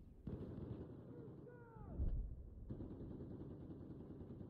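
Faint, distant booms and rumbling gunfire from a Battlefield 4 multiplayer match, with a sharper burst midway and a steady low battle din underneath.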